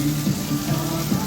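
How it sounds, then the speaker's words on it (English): Heavy rain pours steadily during a storm on Oneida Lake near Brewerton, a dense continuous drumming on a surface, loud and close with no other sounds. "it's literally pouring rain out now"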